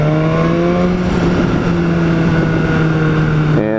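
A BMW S1000R motorcycle engine drones loudly as the throttle is held open in dynamic mode, with a strong, steady tone sustained for a few seconds before it cuts off abruptly.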